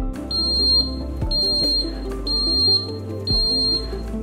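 An alarm annunciator buzzer sounds in repeated shrill high-pitched beeps, four bursts about a second apart, over a low electrical hum.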